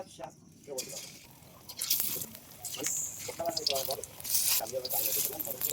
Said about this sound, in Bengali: তেলটা গরম হয়ে গেছে এখন এক এক করে বড়াগুলো ভেজে নেব